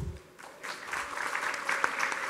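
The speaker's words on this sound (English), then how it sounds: "Give applause to Pak Putu." Audience applause at the ASEAN Plus Three tourism education network forum swells from quiet to a steady, moderately distant patter of many hands, with a few louder claps standing out.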